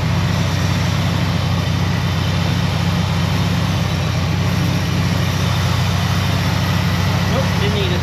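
A 1978 AMC Jeep Cherokee engine runs close by with a steady, even low rumble and constant drone, holding a flat level for the whole stretch with no voices over it.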